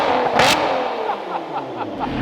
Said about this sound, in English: I'm gonna stop talking so you guys can just hear this exhaust